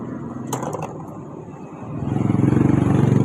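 A Honda Click 125 V3 scooter engine is started, followed by a brief clatter and a steady idle that grows louder and more regular toward the end, heard close by.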